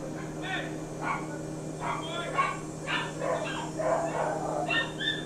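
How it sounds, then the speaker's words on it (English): Pet dogs barking indoors, agitated by trouble with neighbours, give faint, scattered yips and barks behind a low steady hum, quiet and somewhat distant. "my dogs are freaking out because we're having some neighbor problems"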